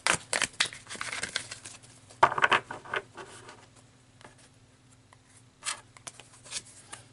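Tarot cards being shuffled, handled and pulled from the deck, with soft papery crinkles, slides and taps in irregular bursts, close and fairly quiet against a faint steady hum.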